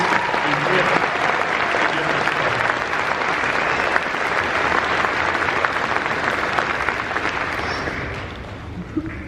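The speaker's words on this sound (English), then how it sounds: "let's give the entire group a round of applause right now for their perseverance and grit" Sustained applause from a large graduation ceremony audience honouring the graduating group, a dense, even roar of clapping lasting about nine seconds before easing slightly at the end.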